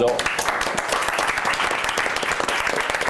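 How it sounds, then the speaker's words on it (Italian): A live audience applauds steadily at a corporate leather event for Pellami due C, dense clapping filling the room throughout with a faint voice underneath. "Facciamo un applauso"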